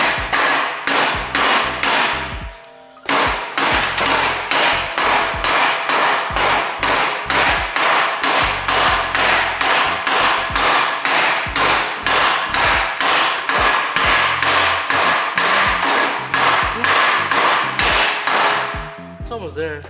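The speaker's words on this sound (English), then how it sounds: "Even with the air tool, it took about a good 5-10 minutes to get this piece out." An air hammer drives at a stubborn bushing with a rapid, loud, close run of metallic impacts that pauses briefly and then resumes its steady pounding rhythm.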